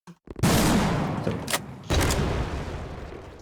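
Destructible objects in a video game exploding into multiple pieces: two loud, booming bursts, each trailing off in a scattering rumble of debris.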